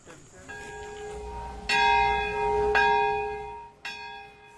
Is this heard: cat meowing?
no